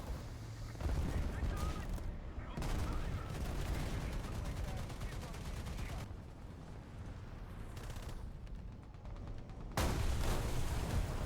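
Gunfire in the War Thunder tank combat game, dense continuous bursts of shots and impacts, loud and close, with brief drops in intensity and a voice speaking over it.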